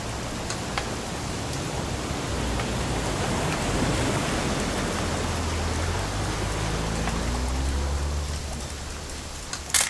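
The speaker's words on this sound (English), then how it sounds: "It's gonna rain the whole weekend, isn't it?" Steady rain falls continuously, close and enveloping, in the video game What Remains of Edith Finch, a dense even hiss with faint drips and no voices.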